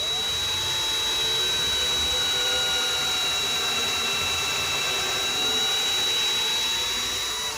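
A power drill bores into wood for a screw while a Portuguese Coimbra guitar is being built, with a steady, loud, high whine running close and continuously, with no pauses.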